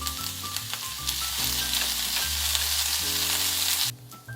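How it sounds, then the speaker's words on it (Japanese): Carrots and burdock stir-fry in oil with chili in a frying pan over low heat, a close, steady sizzle mixed with clattering stirring taps, alone without voices. "フライパンに油と唐辛子を入れ弱火にかけます。 香りが立ったら人参、ごぼうを入れていきます。"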